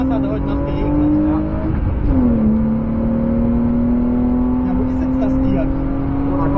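A car passes on the Circuit de Spa-Francorchamps during a trackday: a steady engine tone dips and then rises again as it goes by, loud and continuous beneath a constant wash of road and wind noise.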